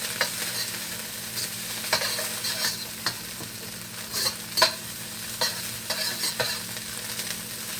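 Chinese ham, already cooked, stirred and warmed in a pan for Yangchow fried rice, giving a low steady sizzle with intermittent scraping clinks of the utensil against the pan.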